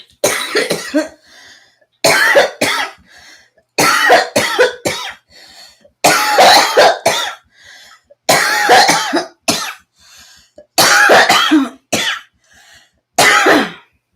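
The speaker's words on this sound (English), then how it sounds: "Those coughs are special." Repeated bursts of harsh coughing, about seven fits at fairly regular intervals, each a cluster of two or three loud, close coughs with brief pauses between.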